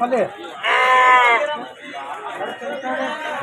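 Rams and goats bleating at a goat and ram market in Jammalamadugu, with a loud near bleat standing out over a busy crowd of chatter and talk.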